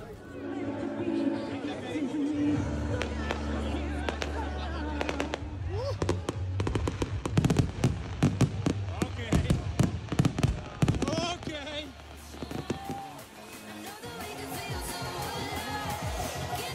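A fireworks display at a motocross world championship party, with rapid crackling bursts and booms building to a dense volley, over steady crowd chatter and talking nearby.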